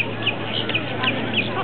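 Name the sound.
seagulls calling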